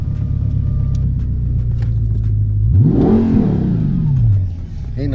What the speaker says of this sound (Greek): Είναι αυτός ο ήχος του V8,